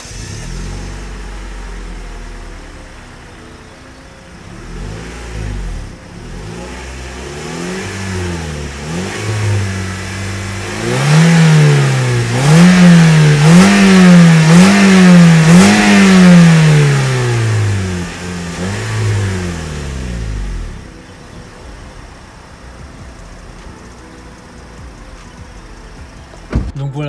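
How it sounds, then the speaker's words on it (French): A Toyota Auris with its original exhaust system starts up and is revved repeatedly, the engine note climbing and falling in several rising surges before settling back to a steady idle; close, loud and with no talking. "je vais vous montrer le bruit un peu autour de la voiture quand je l'allume"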